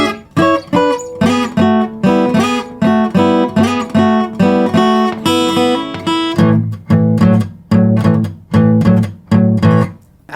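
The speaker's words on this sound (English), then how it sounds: "we got this slidey bit that goes down and that leads us into a shuffle in A." Electric guitar slides down into a bouncing blues shuffle in A, loud and close with a steady choppy rhythm and no voice.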